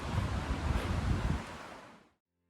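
Strong wind buffets the microphone on an evening walk through Danish coastal dunes, a loud continuous rushing roar that fades and cuts off abruptly.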